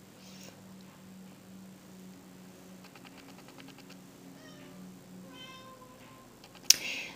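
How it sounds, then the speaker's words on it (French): A pet cat meows repeatedly indoors, a series of fairly clear, mid-loud cries spread across the moment, ending with a sharp brief knock. "Mon chat qui arrête pas de me miauler"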